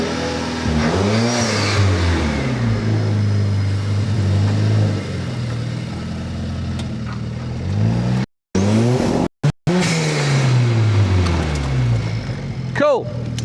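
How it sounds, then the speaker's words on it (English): The engine of a Vortex V2 car revs and pulls away as it drives around a car park, rising and falling through repeated accelerations and gear changes. It sounds loud and close, with brief dropouts and some talk mixed in. "I'm going to have a spin around the car park."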